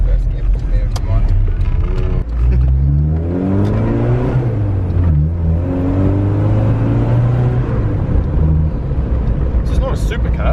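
A turbo-upgraded Isuzu Bighorn truck revs hard in first gear, its engine note climbing in rising sweeps, falling back, then climbing again. It is loud and close, with a turbo whir on top and someone talking over it.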